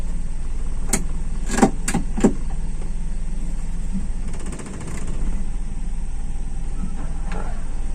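A Toyota Kijang engine idles with a steady, even hum while the car reverses, its distributor timing being adjusted, with a few sharp clicks near the start.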